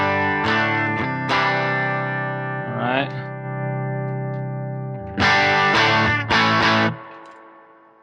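Electric guitar played through a Tone Master Pro modeling a Princeton Reverb combo amp: sustained chords and single notes with reverb tails, a pitch bend, then two bright strummed chords ringing out; a brief spoken word.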